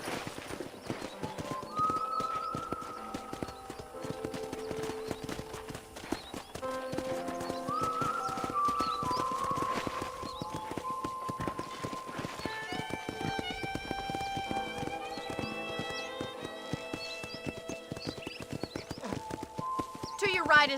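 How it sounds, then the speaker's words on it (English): Horse hooves clip-clop steadily in the Red Dead Redemption video game, close and rhythmic, while in-game speech and background music play over them. "I picked out a fine horse for you."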